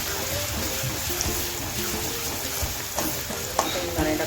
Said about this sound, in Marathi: तेल टाकल्यावर आपल्याला लसूण आणि मिरची टाकायच्या फोडणीसाठी.